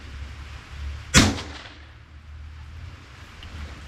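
One sharp, loud gunshot from a firearm loaded with CCI standard velocity ammunition fired into a stack of paper, a single crack with a short decaying tail and quiet room tone after.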